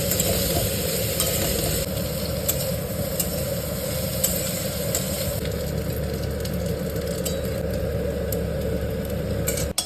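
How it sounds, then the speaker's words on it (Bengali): Young jackfruit pieces frying in white oil and a little ghee in a wok, a steady dense sizzle that stays loud and even throughout with faint stirring clinks. "দিয়ে আমি এঁচোড়গুলোকে ভালো করে ভেজে নিচ্ছি"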